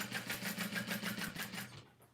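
A sewing machine stitches along a fabric tote bag near a zippered pocket, running in a fast, even mechanical whir with pulsing rhythm for under two seconds before it stops abruptly.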